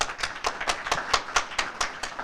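A few people clap their hands in a steady, fairly quick rhythm at a graduation stole ceremony, sounding like a small scattered round of applause close by.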